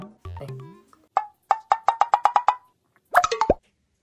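Ice cubes drop into water one after another, a quick run of about eight close, crisp plops, followed by a few other brief tonal sounds.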